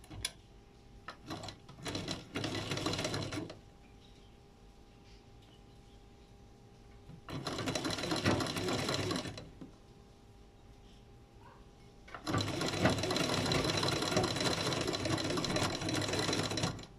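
A sewing machine stitches along the folded side edge of fabric in three bursts, a short stuttering run, a brief one, then a longer steady whir, with quiet pauses between.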